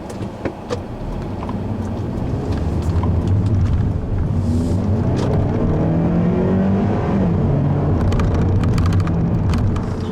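The 1.8-litre engine of a 2014 Hyundai Elantra with six-speed automatic drones and rises steadily in pitch as it accelerates, heard from inside with constant road rumble, loud and continuous.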